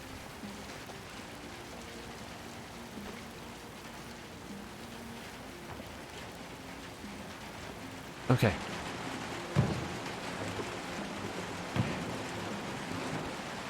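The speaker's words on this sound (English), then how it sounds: "Really like the rain sound." Rain falling in the video game Little Nightmares II, a steady soft hiss running throughout, with a few louder thumps and knocks near the end and a person speaking briefly over it.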